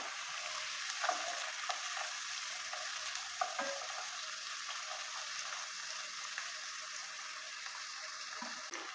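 Chopped tomatoes stirred into frying prawn masala for a Kerala-style prawn roast, a faint, steady sizzle with a few soft spoon scrapes and clicks, no talk.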